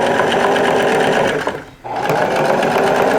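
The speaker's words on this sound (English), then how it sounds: "Go like this, you'll zigzag, make the" A sewing machine zigzag-stitches a buttonhole on a dress shirt, running with a loud, fast, steady mechanical chatter up close, briefly stopping midway before starting again.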